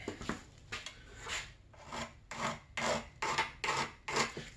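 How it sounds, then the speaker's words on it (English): Hand file rasping on a part from a 2002 Arctic Cat ZR 800 snowmobile being rebuilt, in about eight close, rhythmic back-and-forth strokes with short pauses between, no talking. "Let me grab a file real quick. Trusty old file."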